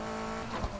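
A BMW M3 skids and drifts in the racing game Need for Speed Heat: a brief burst of engine roar and tire squeal swells near the end, loud and dense, with no talking.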